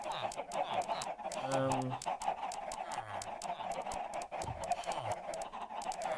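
Chickens in a Minecraft modpack cluck in repeated short bursts amid a dense, busy background of game sounds, with a brief voice in the clip.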